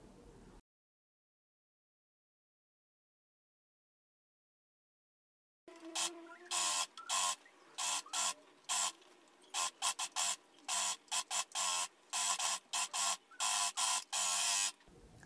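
A sewing machine stitches the side seams of a men's rugby shirt in repeated short whirring bursts separated by brief pauses, close and clear after a long silent stretch.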